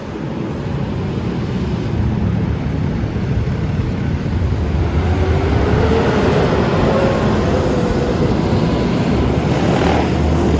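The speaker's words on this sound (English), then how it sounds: "Oh, that's a motorcycle." A motorcycle passes along a busy Manhattan street on a hot summer night, its engine note rising and sweeping by amid dense, steady city traffic rumble and street noise.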